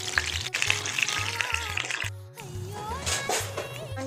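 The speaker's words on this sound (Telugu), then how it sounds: "ఆయిల్ వేసుకోవాలి, క్యాప్సికమ్ ఫ్రై చేసుకోవాలి." Capsicum fries in hot oil with a close, crackling sizzle and some stirring. The sound dips briefly midway, then picks back up.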